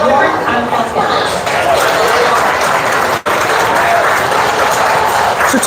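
An audience at a pig show claps steadily, a dense wash of applause with crowd murmur, fairly close and sustained, with a brief dip partway through.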